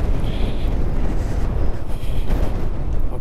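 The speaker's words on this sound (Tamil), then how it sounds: "ஓகே, செம்மையாக தள்ளுதுங்க காற்று." Strong wind on a high mountain pass on the road from Kaza to Tabo, roaring and buffeting against the microphone in loud, continuous gusts, with no voices.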